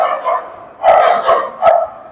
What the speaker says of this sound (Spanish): Y están los perritos ahí